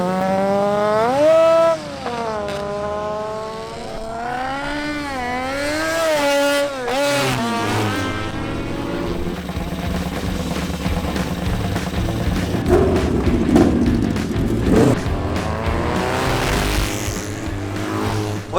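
Racing two-stroke Vespa and Lambretta scooter engines at a motorcycle race, loud and close, with rising and falling revs as machines accelerate past, overlapping engines building into a dense roar in the second half.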